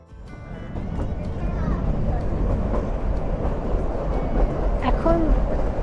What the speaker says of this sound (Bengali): এখন আমরা যাচ্ছি টয় ট্রেনে চেপে।